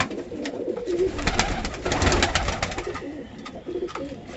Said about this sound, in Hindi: ये हरी आँख का कबूतर है